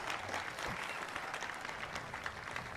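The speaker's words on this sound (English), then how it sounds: "You can hear the applause of everyone that we got in the stadium watching right now." A stadium crowd at a women's professional doubles match at a pickleball open in Delray Beach applauds a point. The clapping is faint and distant, a steady wash of many hands throughout the short stretch.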